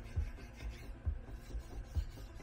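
Close, soft rasping strokes of sandpaper rubbing the spray-painted surface of a YB-49 scale model in a steady back-and-forth rhythm, about four passes, quiet and alone.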